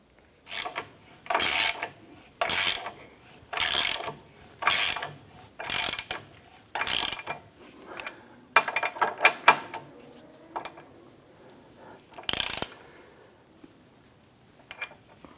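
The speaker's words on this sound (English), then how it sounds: "we'll come on back and torque these down" Ratchet or torque wrench working subframe bolts on a 2008-2013 Nissan Rogue during a front rearward subframe bushing job: about ten bursts of close mechanical clicking in a steady rhythm, then a few quicker rattling strokes.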